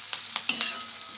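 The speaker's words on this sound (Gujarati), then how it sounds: "અને હવે એમાં 2 લીલા મરચાં સમારેલા એડ કરીશું અને એને પણ આપણે સાંતળી લઈશું" Two chopped green chillies sauté in a pan for kanda poha, a steady close sizzle punctuated by several sharp scraping taps of a spoon stirring against the pan.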